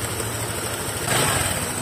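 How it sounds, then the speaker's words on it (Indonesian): A Honda Vario motorbike engine idles after an ECU replacement, giving a steady, low, fairly quiet hum that runs unbroken with no voices over it. "motor udah nyala ya. Dengerin sendiri."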